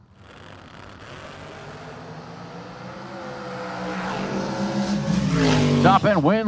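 Drag racing cars roaring down the lanes at a bracket race, one with a 2020 Miller chassis, engine noise steadily building in loudness and pitch as they pass close, with a voice talking over it.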